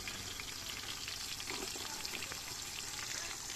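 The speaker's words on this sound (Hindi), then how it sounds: "गर्मा गर्म सरसों के तेल में जो है खड़ा खड़ा प्याज डाला जा रहा है" Onions sizzle and fry steadily in hot mustard oil over a clay stove, with a dense, continuous crackle throughout and no talk.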